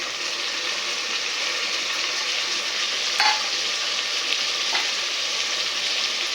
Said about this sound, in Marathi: आता त्यावर मी सगळ्या एक एक करून भाज्या टाकणार आहे टोमॅटो बीट